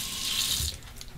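Hot water runs from a tap as a razor is rinsed under it, a brief steady splashing hiss that eases off near the end.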